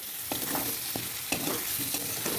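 Soybean chunks and potato being stirred in a frying pan: a steady sizzle with repeated scraping strokes of the spoon against the pan, close by, with no voices.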